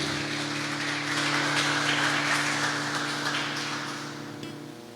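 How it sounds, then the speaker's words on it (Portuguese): Applause from a church congregation during a Sunday service, a dense wash of clapping that holds steady for several seconds over a sustained musical drone before slowly easing off. "Aplauda ao Senhor Jesus"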